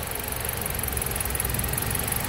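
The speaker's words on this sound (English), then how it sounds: "And you can hear the engine surging too." A Jeep Compass engine idles with a loose electrical connection in its charging circuit, a low steady mechanical hum and rattle that wavers slightly in level without any voices.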